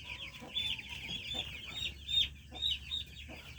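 Farm chickens cluck during vaccination, a steady run of close, fairly clear clucks and chirps over a low background hum, with no speech.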